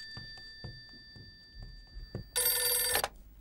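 A telephone bell rings in a short loud burst after a series of soft footsteps or knocks in a quiet room, with steady high tones underneath.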